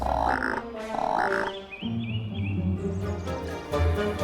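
A cartoon frog croaks in two short, bright bursts near the start, followed by a cartoon sound effect and background music; no speech is heard.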